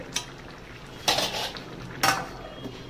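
A metal pot lid and cookware clatter as a pot of dal is covered on a gas stove: three sharp clanks spaced about a second apart, close and moderately loud over faint kitchen background.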